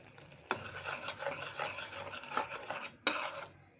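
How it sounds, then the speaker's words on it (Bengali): Spice masala with ginger garlic paste being sautéed in a pan: a metal spoon scrapes and stirs steadily against the pan with soft sizzling, and two sharper knocks stand out. "এখন আমি মশলাটা ভালো মতো কষিয়ে নিচ্ছি"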